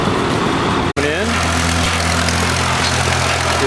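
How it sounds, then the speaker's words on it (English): An early-1930s gray antique tractor engine runs loudly and close by with a steady, rough chugging drone, and a few clunks sound over it. "Beautiful little tractor. Beautiful tractor. I'm guessing it's early 30s."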